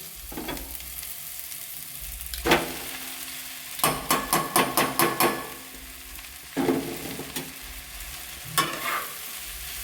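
Flattened rice being stirred into fried winter vegetables in a pan over a medium gas flame, with a steady low sizzle and bursts of scraping spatula strokes, including a quick run of rhythmic taps near the middle.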